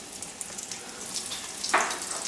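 Ravioli frying in hot oil, with a faint steady sizzle and a brief brighter hiss as food drops in, quiet and close, with no voices.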